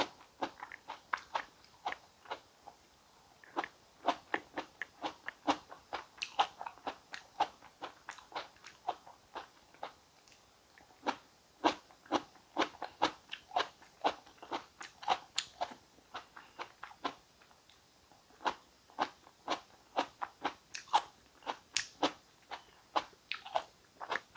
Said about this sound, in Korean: 먼저 이렇게 스테비아 방울토마토 먹어볼게요. 스테비아 방울토마토 정말 맛있습니다.